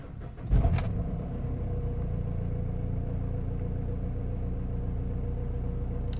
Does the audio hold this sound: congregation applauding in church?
no